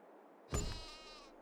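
One sheep bleats by a sheep pen in Farming Simulator 22: a sudden, loud, quavering cry that fades gradually, alone without speech.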